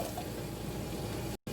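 Water poured into a cooking pot to make rice, a steady splashing pour close by that cuts off abruptly near the end.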